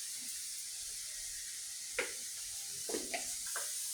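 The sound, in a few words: stirring bay leaf, cinnamon and cardamom in a pan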